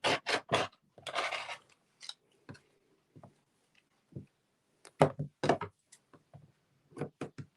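Scissors snip through fabric scraps for a scrappy pillow, a series of short crisp cuts and rasps in quick clusters with pauses between, close and fairly quiet, with no talking.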